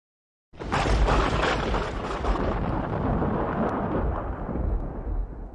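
Thunder starts with a sudden loud crack, then rolls into a deep, sustained rumble that stays heavy and steady for several seconds with no voices.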